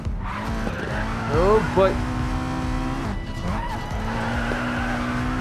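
In the racing game Racing Master, a race car engine drones while tires squeal through corners in several sliding bursts, with a person speaking briefly over the sound.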